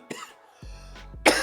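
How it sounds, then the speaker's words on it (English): A person with a cold lets out a few short, hoarse coughs and a throat clear, close and fairly quiet, in a carpeted room. "I'm coughing, one, because I have a cold"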